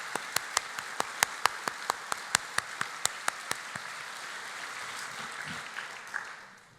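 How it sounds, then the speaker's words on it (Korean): A church congregation during a Holy Week service claps in slow, loud, evenly spaced single claps that gradually fade, set in a reverberant hall. "하나님께 우리 영광에 올려드리는 박수를 한번 하겠습니다"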